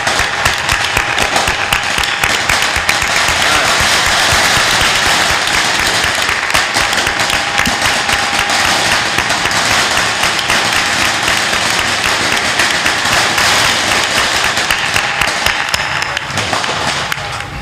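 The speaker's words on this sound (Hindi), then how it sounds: "ताली बजा दो" Loud, sustained clapping from a gathered audience at a spiritual discourse in an ashram, a dense, steady roar of hands that continues for about eighteen seconds before easing slightly at the end.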